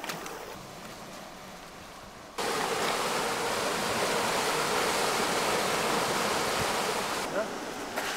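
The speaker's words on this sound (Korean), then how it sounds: "이 작은 폭포 봐봐." A small waterfall in a Korean mountain valley, where two stream gorges meet, makes a steady broadband rush of falling water that swells noticeably louder a couple of seconds in and then holds constant.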